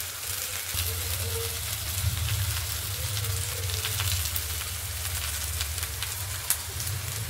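Mixed vegetables (potato, carrot, papaya, radish and onion stalks) fry in a pan with a continuous soft sizzle over a low steady hum, with an occasional small pop.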